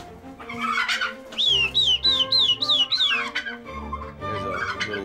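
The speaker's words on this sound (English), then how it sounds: "It's a black Spanish turkey." A black Spanish turkey calls among other birds, giving a run of repeated warbling, rising-and-falling notes, loud and close, with no talking over it.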